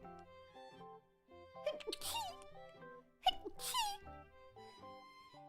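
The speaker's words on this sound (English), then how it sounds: "Okay, so I'm going to sneeze." Two sneezes, one building up and a second louder one, close to the mic, with voiced gasps and squeaky sounds around them.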